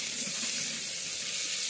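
Okra with chili powder and salt fries in a pan, giving a steady, close hiss and crackle throughout the short stretch with no talking.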